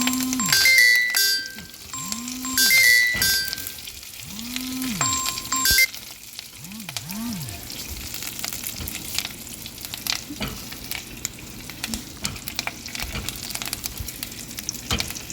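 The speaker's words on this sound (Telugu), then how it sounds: "పచ్చిమిరపకాయలు కూడా వేసుకోవాలి. రంగు మారే వరకు దోరగా వేయించుకోవాలండి." Green chillies fry in tempering oil for a tomato curd chutney, giving a constant crackling sizzle with stirring scrapes. Background music plays over the first several seconds, then the frying carries on alone.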